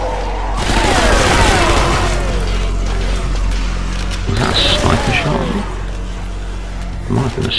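Booming sniper rifle shots crack out a few times in the zombie shooter game Zombie Army Trilogy, playing in a horde mode, and a person talks loudly over them.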